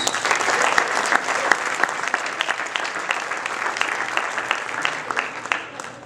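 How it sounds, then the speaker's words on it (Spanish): Congregation at a Spanish-language church service applauding, a loud, dense burst of many hands clapping that holds steady and then tapers slightly toward the end, with faint voices mixed in. "Un aplauso, hermanos."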